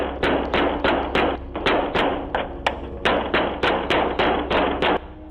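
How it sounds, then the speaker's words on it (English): A stranger pounds on a front door, recorded by a doorbell camera: a steady run of about a dozen heavy, booming thuds in a fast, insistent rhythm, loud and close over a constant hiss. "He started pounding the door."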